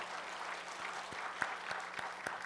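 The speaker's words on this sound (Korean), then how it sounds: "우리 찬양대 위에 우리 크게 격려의 박수를 드리겠습니다." Church congregation applauding the choir during a Sunday service, quiet steady clapping in a large room with a few sharper individual claps over the soft wash.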